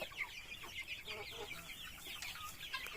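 Young native Darag chickens, about one to two months old, cluck and peep together in a large brooder, a steady near chorus of overlapping chirpy calls with no talking.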